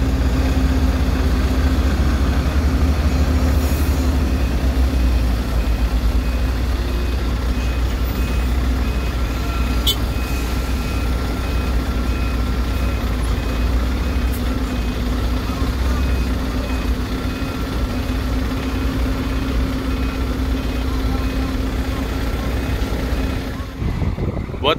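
A truck at a ferry dock idles with a steady diesel rumble while reversing, its backup alarm beeping repeatedly above the engine at moderate distance, loud and continuous.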